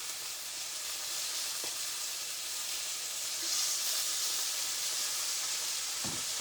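Chicken for orange rosemary chicken sizzles in oil in a pan, giving a steady close hiss of frying with a few faint clinks and a brief swell partway through.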